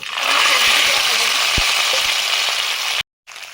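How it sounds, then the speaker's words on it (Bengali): Fried fish with dried chili and five-spice seeds goes into a hot pan, giving a loud continuous sizzle with a few soft knocks before it briefly cuts out near the end. "আমি প্রথমে ভাজা মাছগুলোই দিয়ে দিচ্ছি"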